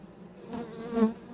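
A steady, close buzzing of many honeybees, a continuous droning hum that swells slightly toward the end.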